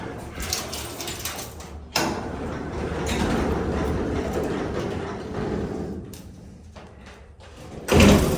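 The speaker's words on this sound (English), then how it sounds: "Go open the door." Freight elevator door equipment at a mall loading dock, a Dover Oildraulic EPCO hydraulic unit, slides and rumbles open with a sharp clank near the start and a heavy slam at the end, close and loud.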